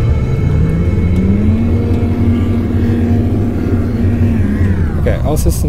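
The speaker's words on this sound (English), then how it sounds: "let's launch straight away" A spaceship launching from a planet's surface in the video game No Man's Sky. A loud, continuous engine roar climbs in pitch, holds steady, then eases off, and a few electronic chirps follow at the end.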